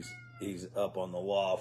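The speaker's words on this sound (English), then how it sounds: "you guys can probably hear our cat in the background" A pet cat meows repeatedly in the background of a room while people talk over it, its cries rising and falling beneath the voices.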